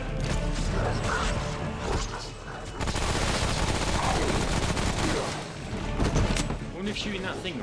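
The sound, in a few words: gunfire in video game Remnant from the Ashes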